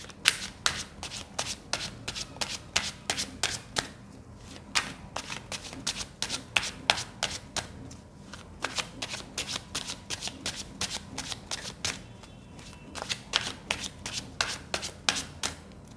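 Tarot cards are shuffled by hand in a steady, riffling rhythm of crisp, close slaps and ruffles that keeps going, pausing briefly a couple of times.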